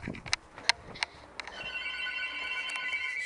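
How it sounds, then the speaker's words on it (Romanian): A telephone rings indoors with a few sharp clicks and knocks first, then a sustained electronic ringing tone that continues steadily at moderate distance. "Mă duc că sună telefonul."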